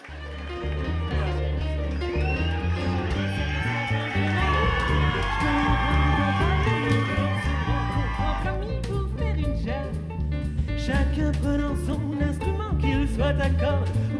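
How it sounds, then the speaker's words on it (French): A crowd cheers and whoops at a Miss NC 2020 pageant show, with loud yells and shouts that carry over music throughout. "On peut les applaudir bien fort."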